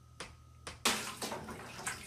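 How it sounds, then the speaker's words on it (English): A baby splashing bathwater in a tub, a couple of soft splashes followed by a louder burst of sloshing water and a few more brief splashes, close by and quiet overall. "Are you enjoying splashing, Kinley?"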